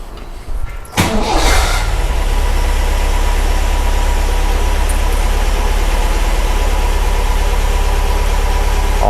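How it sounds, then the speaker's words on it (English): An MGB engine cranks and catches after an oil change, then settles into a steady, loud, even idle that drones on without a break, with a faint faraway voice. "We'll start the engine for a few seconds until it builds oil pressure"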